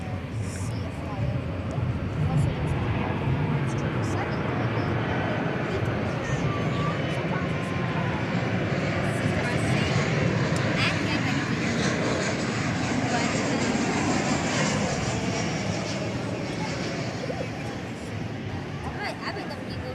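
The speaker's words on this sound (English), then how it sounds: "Got American Flight 2068 just about to arrive from San Antonio, 737 of the 800 variety." A Boeing 737-800 jet arriving at DFW airport at night makes a steady, loud broadband engine roar that swells slightly toward the middle and holds throughout, with faint background voices murmuring underneath.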